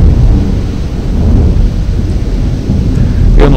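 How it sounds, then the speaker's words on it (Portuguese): Torrential downpour with a low rolling rumble of thunder, loud and continuous, a broad steady wash of rain recorded indoors through a microphone, with no talk over it. "uma chuva torrencial nesse momento, é possível que o microfone tenha até captado o trovão que acabou de"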